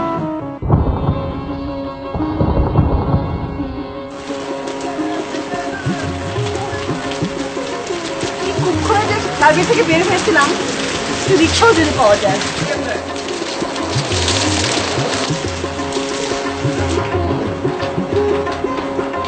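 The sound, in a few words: rain and thunder during a storm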